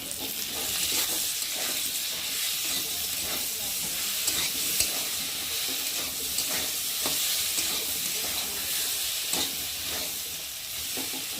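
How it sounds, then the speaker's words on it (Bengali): Turmeric, chili powder, ginger paste and cumin paste sautéing with tomato in hot oil, a dense continuous sizzle and hiss with frequent scraping strokes of a spoon, loud and close with no talk. "হলুদ গুঁড়ো, গুঁড়ো লঙ্কা, আদা বাটা, জিরে বাটা, আর একটা টমেটো দিয়ে ভালো করে কষিয়ে নেব।"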